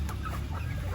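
Chickens cluck close by, short throaty calls overlapping in a brief burst of farmyard chatter.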